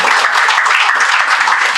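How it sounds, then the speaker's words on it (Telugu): A church congregation in Nellore bursts into loud, sustained applause, a dense wash of many hands clapping close by without a break. "మరొకసారి చప్పట్లు కొట్టండి."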